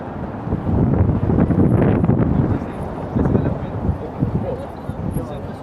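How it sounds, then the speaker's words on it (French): Strong cold wind buffets the microphone in loud, rumbling gusts at Praça da Figueira in Lisbon, with a voice faintly present beneath the roar. "Le vent souffle fort et c'est un vent froid."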